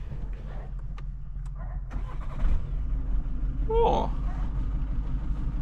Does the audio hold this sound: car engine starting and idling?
yes